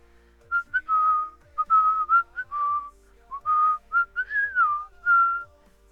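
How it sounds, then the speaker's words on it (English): A person whistles a light, innocent tune alone, a series of clear melodic notes in short phrases with brief pauses between them, close and fairly quiet. "turning away and whistling an innocent song."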